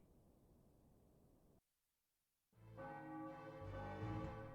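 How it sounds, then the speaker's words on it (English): A bell rings in the Final Fantasy IX video game, sounding as a sustained, resonant ringing that swells loudly after a short silent gap, following a softer noisy passage. "A bell's ringing."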